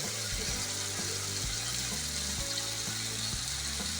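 Ground tomato paste masala for chicken karahi fries and thickens in a pan, giving a dense, steady hiss close by with a rhythmic low thumping underneath throughout, and no speech.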